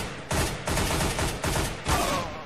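Rapid gunfire bursts from Counter-Strike: Global Offensive on Xbox 360, four or five loud, close, clipped volleys in quick succession with no talking.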